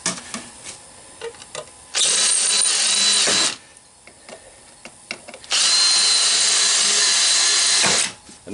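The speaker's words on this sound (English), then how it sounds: "Sometimes when you're drilling rivets, sometimes the rivets don't hold real tight and they want to spin." An electric drill bores out rivets on a shop fan being scrapped: two loud sustained bursts of whining drilling, with clicks and small clanks of handling in the quieter gaps between.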